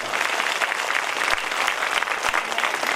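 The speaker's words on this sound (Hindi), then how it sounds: "तो एक बार तालियों की गड़गड़ाहट के" Dense, sustained applause from a crowd gathered at a religious Bhagwat Katha gathering on its seventh day, loud and steady with a few sharp thumps.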